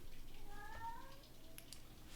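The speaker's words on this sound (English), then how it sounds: "I don't know what she's meowing about." An indoor house cat that had been out in the rain gives a single faint, drawn-out meow, quiet and close against a soft background hiss.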